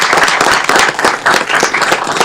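Dense, close clapping from a city council meeting audience honoring appointees, loud and steady with brisk overlapping hand claps for a couple of seconds.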